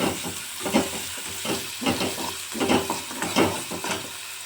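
Food sizzles in a pan while a utensil scrapes and stirs through it in steady, repeated strokes, close and fairly loud.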